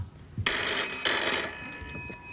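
A telephone rings on a late-night talk show set, a bright electronic trill starting abruptly and sounding steadily and close for about two seconds, with no talk over it.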